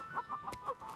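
A farm chicken clucks in a few short, soft bursts, a quiet nest-side sound with no talk over it.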